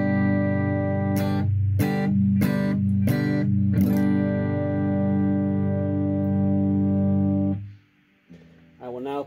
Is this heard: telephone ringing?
no